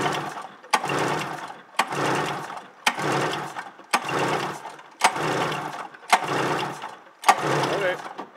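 A 1993 Polaris Indy XLT Special 580 snowmobile engine is cranked repeatedly for a compression test, with about eight evenly spaced turning-over bursts, each starting with a sharp click and followed by a whirring churn, close up.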